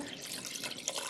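Water runs steadily into a cooking pot from a tap or container, a continuous close splashing pour with no voices.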